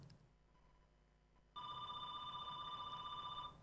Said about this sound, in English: we have a phone ringing